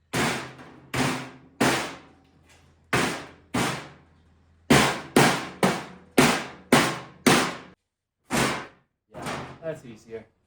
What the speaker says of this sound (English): Pounding this down.